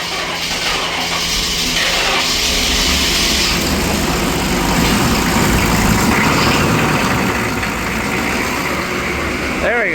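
A 1995 Chevy 3500 one-ton dump truck with a 6.5L Detroit diesel idles steadily and loud, a rough low rumble running throughout with slight variations, after a hard spring start.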